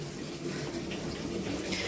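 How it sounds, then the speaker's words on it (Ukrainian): Water from a glycerin spring at a pump room on a cliff above a river in Skhidnytsia runs off in a steady, close splashing trickle, continuous and moderately loud with no talking. "Ось тут і стікають залишки галіцеринового джерела."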